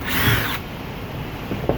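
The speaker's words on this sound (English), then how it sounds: "drill down the hole." A Dewalt cordless drill bores a hole in a piece of wood to fit a threaded insert, its loud, close whine running steadily and then dropping to a lower, quieter drone.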